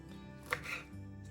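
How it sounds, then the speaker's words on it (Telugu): Green chillies cut into small pieces on a board make one crisp knife chop, close and faint, over quiet kitchen background. "పచ్చిమిరపకాయల్ని మనం ఇప్పుడు చిన్న చిన్న ముక్కలుగా కోసుకుని ఒక బౌల్లో వేసుకుందాం"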